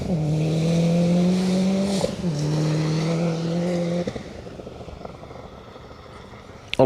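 A Subaru Impreza rally car on a forest stage revs hard through gear changes, its engine note rising in two strong pulls before easing off and fading, with a commentator talking over it.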